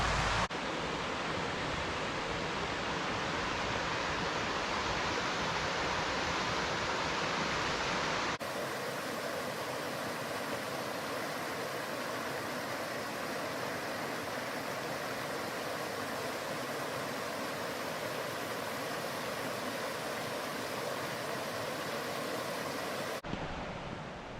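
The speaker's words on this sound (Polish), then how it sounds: "I cały czas przy potoku Wilczki." The Wilczka mountain stream near Międzygórze in the Sudetes rushes steadily, a loud continuous broadband roar of flowing water with no voices, cutting abruptly partway through to a slightly different take.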